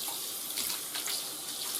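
Water runs steadily from a tap into a bathroom sink and drains freely after a clog has been cleared, making an even, close hiss with slight splashy variation and no voices.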